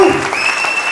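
Loud, close crowd clapping for Grewal in a seminar hall, a brief dense burst of applause with a voice and a tonal hum faintly underneath.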